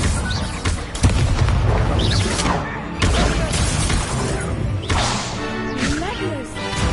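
Explosive spell blasts from the Confringo fire spell in Hogwarts Legacy, several sharp cracking whips and shattering bursts at intervals across a busy, loud game mix, with faint voices beneath.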